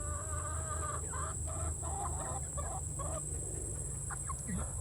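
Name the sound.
chickens clucking in a flock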